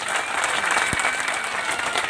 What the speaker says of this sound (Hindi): अहाँ सब अपन माननीय मंत्री जी के लिए एक बेर ताली बजा के उनकर स्वागत कर दियौ